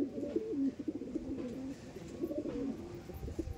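Several pigeons coo steadily in a loft, their low, throaty phrases overlapping in a continuous rolling chorus close by, with no talking.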